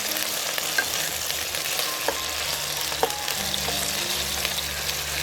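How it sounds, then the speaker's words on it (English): Chicken thigh fillets sizzle steadily in a frying pan, a constant close crackling hiss with small pops and no voices. "Nice sizzle right there."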